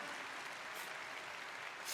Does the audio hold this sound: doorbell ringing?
no